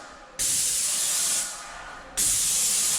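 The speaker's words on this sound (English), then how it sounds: "You might have to spray one way, then spray another way because it's easier." A paint sprayer coats a staircase in two loud bursts of hissing spray, the first easing off before the second starts sharply, with no talk over them.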